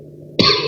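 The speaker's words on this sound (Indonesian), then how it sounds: "Aduh, mereka batuk ya." A single short, sharp cough breaks a quiet background, close and fairly loud.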